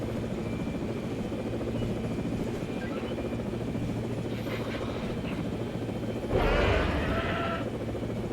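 A helicopter in a video game drones with a steady low rotor hum throughout, with a brief louder burst of game sound near the end and no talk.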